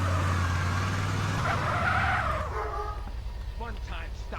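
Car driving into the police impound in GTA San Andreas: a loud engine and tire skid in the first half, then quieter rolling with faint clicks and a short tonal sound.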